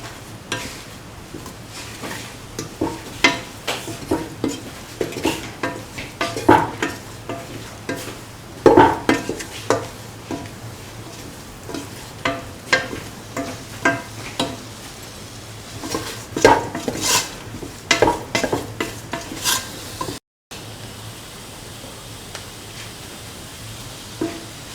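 Cauliflower and bottle gourd sautéing with spices in a pan, a low sizzle under frequent scraping and knocking strokes of a spoon against the pan, close and rhythmic, with a brief dropout near the end.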